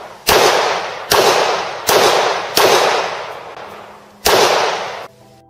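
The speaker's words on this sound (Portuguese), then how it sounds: "Eu engatilhei o 38 e dei alguns tiros na porta." Five loud .38 revolver shots fired at a door, sharp close cracks spaced under a second apart, each trailing off in a reverberant decay, with a short pause before the last shot.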